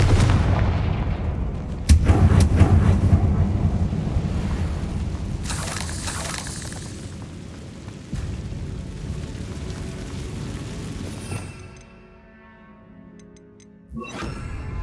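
Confringo blasting spells set off in Hogwarts Legacy, booming explosions with heavy low rumble and sharp bursts, loud and close, fading into quieter game ambience before one more blast near the end.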